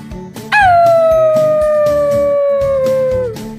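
A cartoon character's voice imitates a wolf howl in a children's animal-sounds game: one long, loud, sliding howl starting sharply and falling slowly over about three seconds, above a bouncy music backing.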